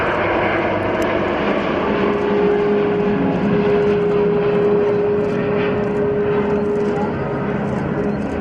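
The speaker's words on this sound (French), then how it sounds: "rotation at 120 knots, and the Queen of the Sky lifts into the air on sunshine" An Airbus A380 takes off at an air show at Le Bourget, lifting off over water; a loud, steady roar of jet engines fills the scene continuously with a faint sustained whine, while a commentator's voice is faintly mixed in.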